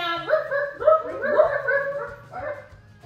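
Several children's voices imitate dog barks and yips in short bursts during a kids' yoga class, holding a downward-facing-dog pose, with a few overlapping woofs, then a brief pause and one more.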